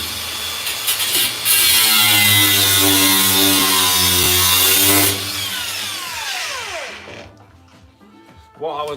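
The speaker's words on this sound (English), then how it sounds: "I think I need to get the grinder out again." An angle grinder roars loud and steady in a workshop shed for several seconds, with a high metallic whine, then winds down and fades out.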